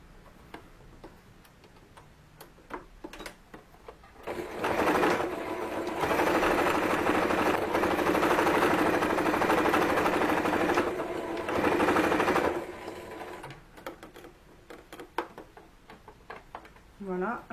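A sewing machine stitches the side seams of a ruffled fabric dress with a zigzag stitch, running loud and steady for about eight seconds between softer ticks and handling noises before and after.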